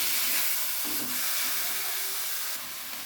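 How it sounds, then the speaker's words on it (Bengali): Vegetables sizzle and hiss steadily as they fry lightly in hot oil for a noodle dish, a close, continuous crackle with small swells as they are stirred. "এখন আমি সবজি সব দিয়ে কষিয়ে নেব। কষানো বলতে হালকা ভাজা ভাজা করে নেব।"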